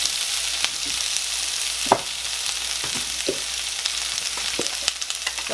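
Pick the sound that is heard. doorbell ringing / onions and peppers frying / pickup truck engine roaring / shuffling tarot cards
onions and peppers frying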